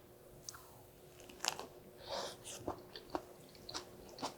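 Soft, close chewing of an eggplant sandwich, with moist crunchy bites and squishy mastication in small irregular bursts over a quiet background.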